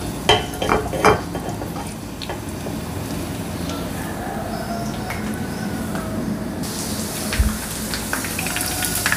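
Ten to twelve garlic cloves sputter in heating oil for a mango dal tempering: a steady, moderate sizzle with a cluster of sharp pops and clinks at the start and a low thump later on.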